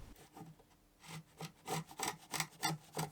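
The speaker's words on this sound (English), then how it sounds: "Removing the excess with a chisel." Repeated rasping scrapes of a chisel paring excess wood from an old TV unit, several strokes in quick rhythm, close and fairly loud, with no voices.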